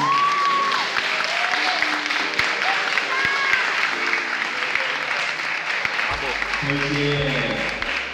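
Audience at a LAN gaming event applauding, a dense steady clapping from a crowd lasting throughout, with amplified speech and some music over the top.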